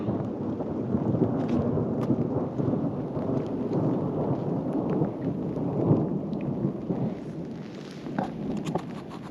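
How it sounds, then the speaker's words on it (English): Thunder rolls through a thunderstorm at a lake, a steady, heavy rumble with rain and wind noise that lasts throughout and swells and fades slightly, with no voices. "There's more thunder."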